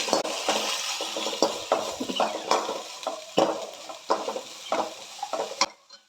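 Mushroom gravy fries over a low flame in a pan, with repeated scraping stirs and soft clinks of a utensil over a steady sizzle, close up and with no voices.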